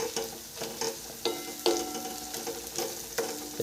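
Whole spices crackle in hot oil in a pan while a spoon stirs them, with repeated scraping strokes and knocks over a soft sizzle for Gujarati dal khakhara.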